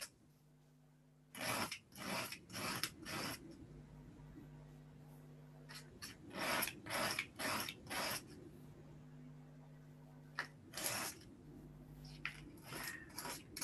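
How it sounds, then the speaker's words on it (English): Hand sanding of a wooden piece held at an angle, heard as a series of short rasping strokes in bursts with brief pauses, close and fairly quiet, over a faint low background hum. "I'm just sanding it at a bit of an angle"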